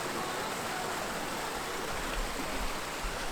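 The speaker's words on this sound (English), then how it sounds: "There's a waterfall right here." Constant broadband rush of a waterfall beside a hot spring in cold Utah hills, heard close and steady without pauses, with no talking.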